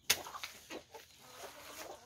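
Farmyard chickens cluck softly in a few short, scattered calls, faint and somewhat distant, with no voices.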